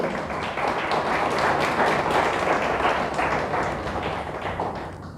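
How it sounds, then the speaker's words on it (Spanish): Church congregation applauding during a sermon, a thick, loud roar of many hands clapping together, swelling slightly and then easing off toward the end, with no speech over it. "¿Le damos un fuerte aplauso a Dios por eso?"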